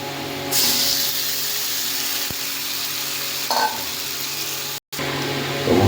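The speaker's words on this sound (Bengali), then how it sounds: "হালকা ভাজা হয়ে গেছে এবার মাটনটা দিয়ে দেবো" Mutton sizzles in a frying pan after going into lightly fried spices, a loud steady hiss with brief clatters, a sudden flare, and a short gap near the end.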